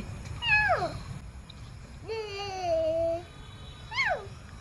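A child imitates a cat, giving three separate high, drawn-out meows with short pauses between them, close and clear over a quiet background.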